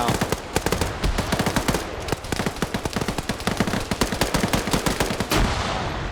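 PKT machine gun on an Mi-8 helicopter fires in a video game, rattling off rapid, evenly spaced shots in steady bursts that keep up, loud and fairly close, for the whole stretch.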